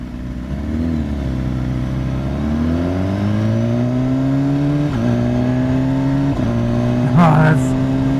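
A 2016 BMW S1000RR sportbike downshifting with an auto blipper, the engine note stepping down through gears with rising rev blips, loud and close, with a rider talking over it.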